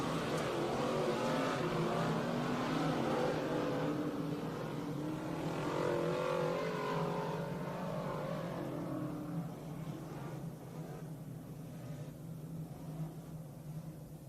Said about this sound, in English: car's backing down right now